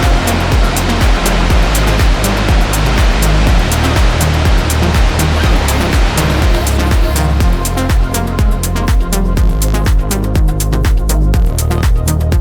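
A waterfall beside a winding mountain road in Tibet, a loud, constant rush of falling water filling the whole clip without pause, close and steady.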